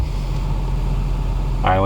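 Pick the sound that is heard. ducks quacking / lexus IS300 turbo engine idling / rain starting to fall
lexus IS300 turbo engine idling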